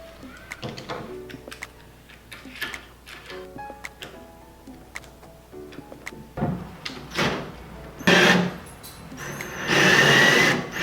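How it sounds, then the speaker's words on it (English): A power drill with a T40 Torx bit works a bolt loose on a 2017 Dodge Ram tailgate: scattered ticks and clicks, then louder, whirring bursts of the drill near the end, close by. "This is actually the T40 Torx bit that I finally used to get it out with my power drill"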